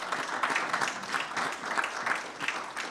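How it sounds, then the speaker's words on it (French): An audience at a regional meeting on decarbonising transport gives a round of applause, a soft, steady patter of many hands clapping at a distance, continuing evenly throughout. "On l'applaudit"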